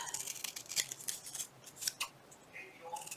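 Scissors trimming paper for a Christmas journal pocket, several quick close snips in uneven succession with a soft voice murmuring in the background.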